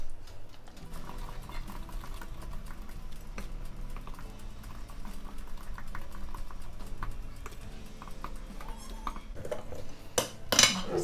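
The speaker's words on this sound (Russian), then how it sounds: "Хорошо перемешиваю все до однородности." Chocolate cake batter mixed with cocoa and boiling water being whisked in a bowl, steady rapid clicking and scraping strokes close up, with a few sharper clinks of the whisk against the bowl at the end.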